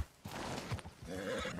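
A horse in a video game gives a loud, close whinny, with clip-clop hoofbeats mixed in over about a second and a half.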